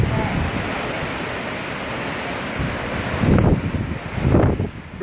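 Hurricane Irma wind gusts roar steadily through trees in a broad broadband rush, swelling into two stronger surges near the end.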